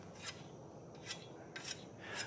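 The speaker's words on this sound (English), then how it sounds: "you need to file it down flat" A file rasps along a damaged scythe blade to work it flat, four separate high scraping strokes at a steady pace, close and fairly quiet over a low background hiss.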